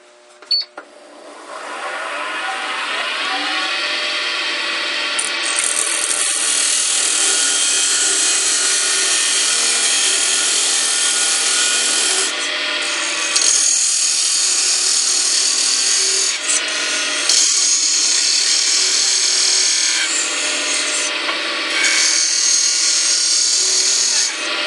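A wooden napkin ring spins on a lathe while a cutting tool works it, making a loud, sustained whirring scrape. The sound shifts in tone as the cut changes and pauses briefly now and then, with no voices.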